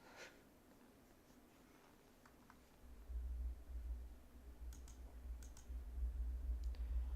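Computer mouse and keyboard clicking at a podcast streaming desk, scattered faint clicks and a few sharp taps close by, with a low rumble building underneath partway through.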